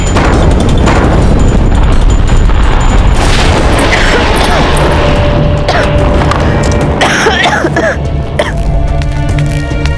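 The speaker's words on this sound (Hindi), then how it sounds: "और ये तोपों के धमाके" Deep, rumbling booms of cannon fire roll continuously, loud and heavy, with a sustained tone and some clatter layered on top.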